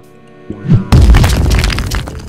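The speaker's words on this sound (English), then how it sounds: "I blasted a hole through the wall!" In a video game, an explosion blasts a hole through a prison wall: a short thud, then a loud crashing boom with breaking debris that rumbles on for over a second.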